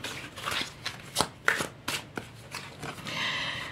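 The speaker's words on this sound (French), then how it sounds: "Allez, je vais tirer une troisième carte." Oracle cards are shuffled by hand close up in a rhythmic series of soft riffling flicks and slaps, followed by a longer smooth sliding rustle as a card is drawn, with no voice over it.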